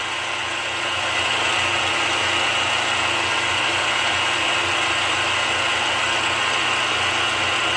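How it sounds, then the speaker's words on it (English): A milling machine cuts a pocket for a nut in custom machining work for a spare tire bracket, producing a steady, loud, continuous grinding whir with a constant mechanical chatter and no talking. "I'm milling a pocket right here for this nut"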